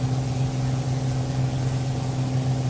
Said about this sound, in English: I just love that sound of that Just Flight engine of the Piper Aero Turbo